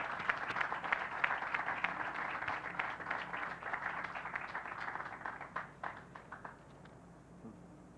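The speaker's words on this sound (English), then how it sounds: "let's give a big round of applause and welcome to Dr. Mark Newman" Audience claps to welcome a doctor at an event on an ovarian cancer screening program, with dense, soft applause that thins out and fades toward the end, heard from some distance.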